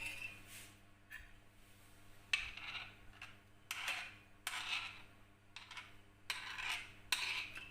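A spoon slowly adds sugared mango pulp into custard, making light metallic clinks and scrapes against a bowl in scattered clusters. The sounds are soft and close over a quiet background hum, with no speech.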